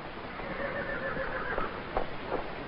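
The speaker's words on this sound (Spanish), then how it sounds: "buenos caballos, Kelly" A horse gives a muffled whinny amid a steady outdoor rumble, with a few soft hoof thuds, in a Western drama scene about newly caught horses.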